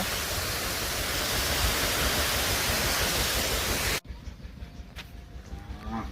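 Water rushing down from hills in a rural hilly area of Gujarat, a loud, steady broadband roar that cuts off abruptly partway through, leaving quieter, uneven background sound.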